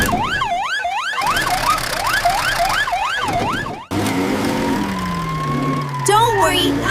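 Police car siren in a children's cartoon, loud wailing rising-and-falling tones that repeat rapidly, then a lower steady tone after a brief cut, with voices talking over it.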